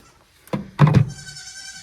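A goat gives a couple of short, close bleats, a quick nasal cry followed by a louder wavering call, against a quiet farm background.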